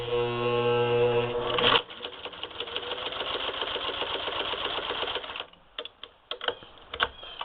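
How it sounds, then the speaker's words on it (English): A Singer 15-91 sewing machine fitted with an antique automatic zigzagger stitches through leather about 1/16 inch thick, a steady rapid mechanical chatter running for several seconds before stopping into scattered clicks and handling knocks. "So, let's see what it does with a piece of leather."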